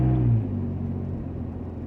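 A Jeep JK 3.8 exhaust through the factory muffler gives a brief loud surge at first, then settles into a low, steady rumble close by with no voices.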